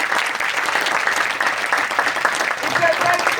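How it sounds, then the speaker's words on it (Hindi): Congregation clapping during church preaching in Uttarakhand, a continuous dense patter of many hands, with crowd voices faintly mixed in. "ये तारीफ छोटी है, जो तालियां बजा रहे हो, परमेश्वर को ऐसी तालियां नहीं चाहिए"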